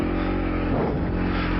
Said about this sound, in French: C'est une excellente moto, un très très bon moteur.